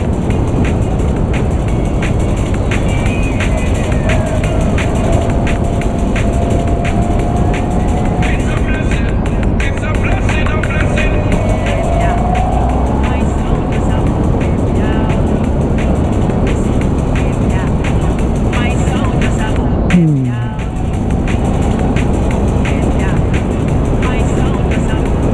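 A car rolls along a gravel stretch of Upper State Road with a steady, loud rumble and crunch of tires over loose stones, constant throughout, and a brief dip near the end.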